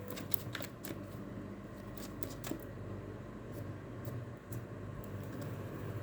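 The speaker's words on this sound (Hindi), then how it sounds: "चलिए थोड़ा और शफल कर लेते हैं," Tarot cards are shuffled by hand in a steady run of crisp riffling flicks and snaps. The sound is close but soft, over a low background hiss, with no talking.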